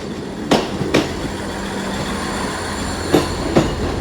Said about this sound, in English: we've got that terminating South Western Railway service for London Waterloo coming in